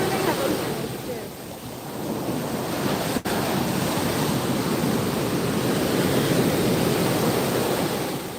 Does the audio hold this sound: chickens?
no